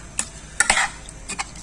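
A spoon scrapes and taps against a pan as garlic, turmeric and salt are stirred in hot oil for a chicken dish. A few sharp, close clicks and scrapes come in quick succession over faint background noise.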